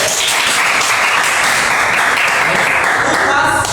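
A classroom audience at a junior high school informatics microteaching session bursts into loud, dense clapping that holds steady throughout.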